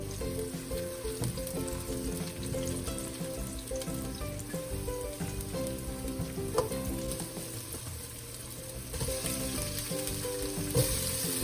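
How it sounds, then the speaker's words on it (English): Steady frying sizzle from a pan sautéing before shrimp is added for shrimp scampi, a dense continuous crackle with occasional small pops and stirring, heard alone without talk. "So that just saute a little bit"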